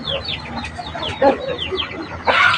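Thai fighting roosters on a game-fowl farm cluck in quick bursts, with short crows rising near the end. The birds sound close and fairly loud, with no talk over them.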